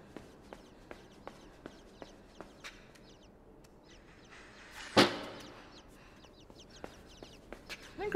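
Chickens clucking and scratching outdoors, a few soft scattered calls among light ticking footsteps, with a sudden loud bump in the middle.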